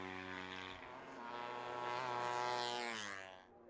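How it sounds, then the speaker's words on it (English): A two-stroke racing motorcycle passes at a road race, its high, buzzing engine note rising in pitch as it closes in, then fading as it goes by, heard alone. "they can hear the sound of the two-stroke of Dominic Herbertson"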